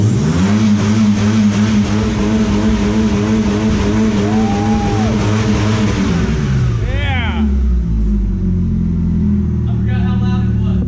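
A Subaru Forester engine, built up for an off-road rally, revs loudly and close for about six seconds before dropping back to a rumbling idle, with voices talking over the engine noise.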